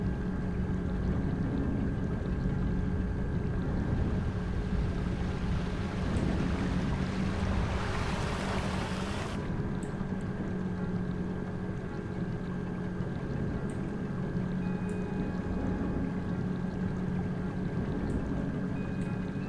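Strong ocean waves churn around a boat in GTA V, a constant loud rushing wash with a surging splash of spray in the middle.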